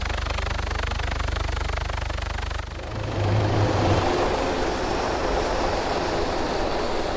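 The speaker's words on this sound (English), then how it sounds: "John, turn the heli off real quick." A helicopter engine in DayZ runs as a loud, steady mechanical drone. Its tone shifts partway through, and a thin high whine then rises above the roar and holds to the end.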